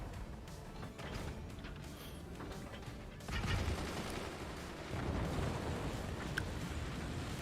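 Incendiary mortars fire in the Forts RTS game, producing muffled, fairly faint volleys of crackling blasts that swell twice into denser rumbling barrages.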